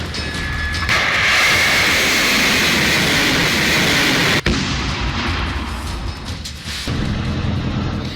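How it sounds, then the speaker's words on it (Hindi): Several Kalibr cruise missiles launched one after another from a ship in the Black Sea, giving a loud, sustained roaring rush that breaks sharply midway and then continues as a steady, slightly thinner roar. "एक के बाद एक कई कैलिबर क्रूज मिसाइलों को ब्लैक सी से दागा गया।"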